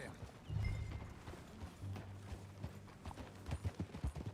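Clip-clop of horse hooves while riding in Red Dead Redemption 2, a steady run of hoof strikes that grows denser and more rhythmic toward the end, over a low rumbling background.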